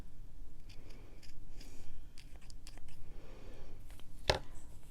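Scissors trimming fabric for a needle book, giving soft snips over a continuous low rustle of handled material, with one sharp, louder snip near the end.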